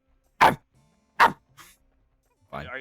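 A man imitating a dog with his voice: two sharp, loud barks close together, a short quieter yip, then a drawn-out whining vocal sound after a brief pause.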